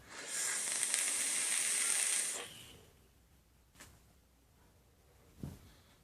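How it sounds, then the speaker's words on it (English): Vapor pulled through a very small Derringer 1.0 rebuildable dripping atomizer makes a loud, steady airy hiss lasting about two seconds, then quiet with a couple of faint soft clicks or puffs afterward. "let me just take a vape and just show you"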